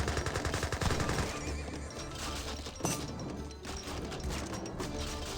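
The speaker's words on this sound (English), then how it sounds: "Stable receiving a bit of fire there." Gunfire in an Age of Empires 3 tournament match, with volleys of shots pounding a stable amid dense, continuous game battle sounds and a few heavier impacts.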